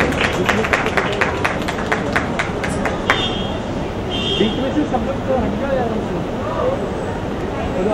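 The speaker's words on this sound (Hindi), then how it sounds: "जोरदार तालियां।" A crowd at a televised singing-show event claps and cheers loudly for a celebrity singer's entrance, with dense, sustained applause that is sharper at first and then settles into a broad roar.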